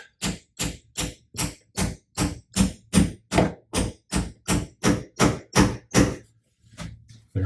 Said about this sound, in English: We're going to take our hammer and just lightly tap.